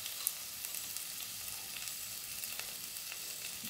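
Green chillies frying in a pan while being stirred, a steady bright sizzle with faint scraping ticks throughout, close and even, no voices.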